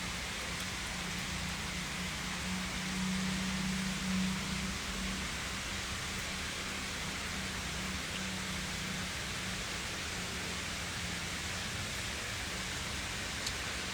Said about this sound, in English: The rain just makes me feel sleepy.